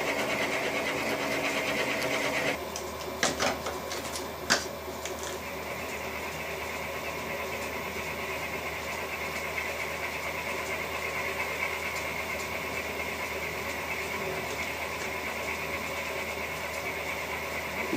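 A metal lathe runs a boring cut under a motorized power feed driven by a toothed belt, giving a steady, close mechanical whir with a few sharp clicks early on and no talk.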